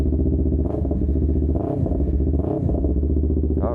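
A Yamaha R3 motorcycle's parallel-twin engine idles close by just after starting, a steady low rumble with brief rhythmic blips and mechanical clatter.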